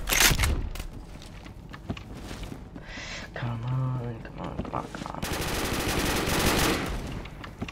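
Dense automatic gunfire bursts in the Phantom Forces shooter game, loud and close, with rapid repeated shots at the start and a long stretch near the end, plus a talking voice in between.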